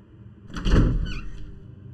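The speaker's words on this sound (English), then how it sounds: "I think there was a door?" A door opens in a horror video game, a heavy low rumbling slide that swells after a quiet start and then fades out slowly, close and alone, with no talking.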